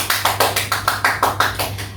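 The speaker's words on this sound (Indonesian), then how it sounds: "Tepuk tangannya dulu dong." Hands clap in a steady, even rhythm at a school public speaking presentation, about eleven sharp claps in two seconds, close and moderately loud with no talking over them.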